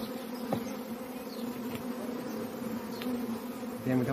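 Bees buzz close by at a garden hive, a continuous droning hum with individual insects swooping past now and then.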